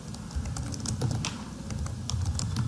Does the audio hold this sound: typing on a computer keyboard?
yes